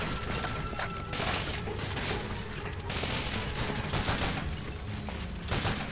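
Dense, continuous gunfire from the Call of Duty: Finest Hour video game on the Soviet Eastern Front, rapid overlapping shots and bursts filling the whole stretch at steady loudness with no talk.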